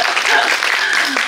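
Audience at a film festival talk applauds, a brief, loud burst of dense clapping with a voice faintly mixed in.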